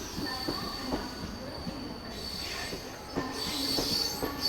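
Local trains roll through a busy Indian railway station near Dombivli, with steady wheel rumble, rhythmic clacking over rail joints and sharp metallic squeals close by.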